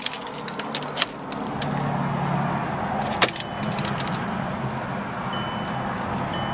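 Volkswagen 2.5 liter five-cylinder engine with a five-speed manual, about 124,000 miles, cranking and starting, then settling into a steady, loud idle close by, with a few clicks and rattles over the running engine.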